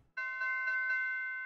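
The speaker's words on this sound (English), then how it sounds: "And this bell right here came out of Nexus" A bright synthesized bell sample from the Nexus plugin in FL Studio, struck about four times in a steady rhythm with a sustained shimmering ring, close and clear with no talk.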